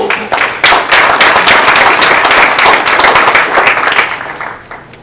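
A conference audience greets speaker Paul Olvera at an assessor's office event with steady, full applause, many hands clapping densely for several seconds before tapering off near the end.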